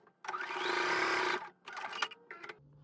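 A sewing machine runs a quick basting stitch on fabric pieces for a waist pack: one steady run of about a second, then a few shorter stop-start bursts, fairly quiet and close.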